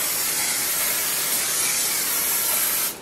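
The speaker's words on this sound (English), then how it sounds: "I'm going to spray some cooking spray just to grease it." Cooking spray blasts onto a preheated griddle as one continuous, loud, close aerosol hiss lasting about three seconds before stopping.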